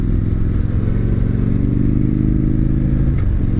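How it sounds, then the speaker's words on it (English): Victory Hammer motorcycle engine running: a loud, steady, deep throbbing idle with a rhythmic low-pitched pulse and slight mechanical clatter, close by and continuous, without talk. "Listen to that engine purr"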